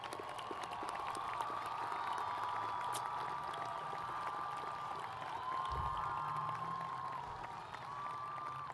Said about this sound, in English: I would like any student who plans to major in STEM, please stand for a moment and take an applause